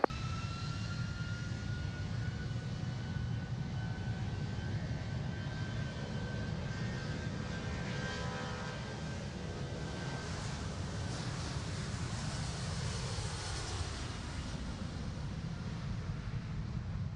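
An airliner takes off from Manchester Airport runway 23 left, heard as a steady, moderately distant jet engine roar with a rumbling low end that stays continuous throughout, with no speech.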